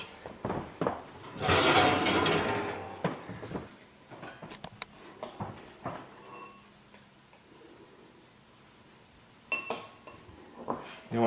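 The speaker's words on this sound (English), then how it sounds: "You want to take your pots out." Hot bread pots lifted out of an oven, with a burst of oven fan or rushing air, then scattered clanks, clinks and knocks of heavy pots and lids handled nearby, no speech.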